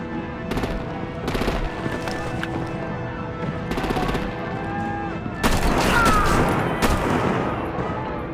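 Automatic gunfire from the Batman: The Enemy Within video game, Episode 2, cracks out in repeated short bursts, with a heavier, denser volley toward the end, all loud and close.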